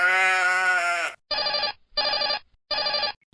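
A telephone rings inside a house: one long, loud bell-like tone followed by three shorter, evenly spaced rings, close and clear, with no voices.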